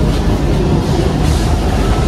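The Cakrabuana passenger train departs, rumbling steadily with a dense, low mechanical roar and faint rattling, moving continuously without pauses.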